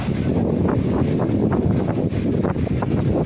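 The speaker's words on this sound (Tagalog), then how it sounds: "Lakas ng hangin dito." Strong typhoon wind during a storm in Angeles City, Pampanga, roaring and buffeting the microphone loudly and continuously, close and unbroken.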